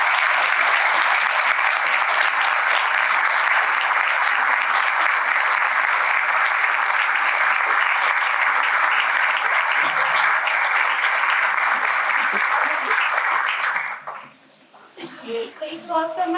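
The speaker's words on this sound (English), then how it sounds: "So let's have a huge round of applause." A big audience at a workforce-program talk gives a long, loud round of applause that holds steady for about fourteen seconds, then drops away abruptly as scattered voices and stray sounds take over.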